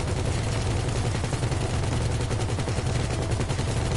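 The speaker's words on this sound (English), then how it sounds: "I'm shooting them" Rapid sustained automatic gunfire in the Grand Theft Auto V video game, dense and loud with no pauses.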